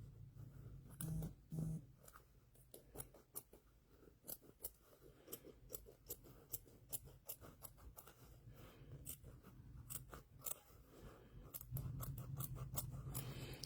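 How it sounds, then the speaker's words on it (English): Small cuticle scissors snip applique fabric for a quilt block in a long run of short, crisp, close cuts at an uneven pace, faint and quiet, with no voices. "cuticle scissors are really good to do something like this with"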